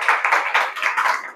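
Audience clapping at a results ceremony in a Marathi-speaking school or class, a steady burst of many hands applauding together for a short stretch with no talking over it.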